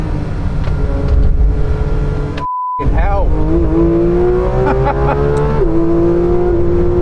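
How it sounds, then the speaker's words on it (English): A Porsche GT3 RS with the Manthey racing kit laps a race track, its engine revving hard and climbing through the gears with loud, continuous roar and a brief cut at a shift, while a man swears over it. "it was time for my first laps in the Manthey racing car"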